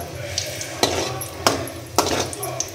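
Food frying in oil in a pan, with a steady sizzle broken by several sharp clinks and scrapes of a spatula stirring against the metal, close and fairly loud.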